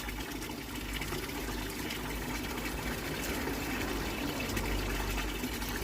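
Water from a shower spray splashes continuously into a fish pond, a steady broadband patter and hiss with a low pump-like hum underneath.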